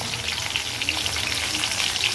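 Carrots and beans sizzle in a pan of oil for a vegetarian navratan curry, giving a steady, fairly soft crackling fry with small pops that carries on through the clip.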